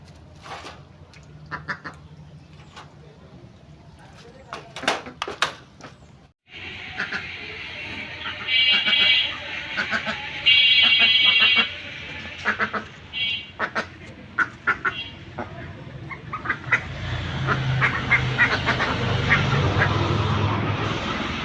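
Ducks drinking water give scattered quacks, with bursts of louder, nasal calls in the middle and a busier stretch of splashing and dabbling near the end, close by and with no talk.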